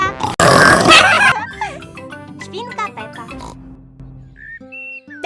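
A pig character oinks in a Peppa Pig cartoon parody, a loud close snort followed by cartoon music and sound effects, with a child-like voice talking over parts of it.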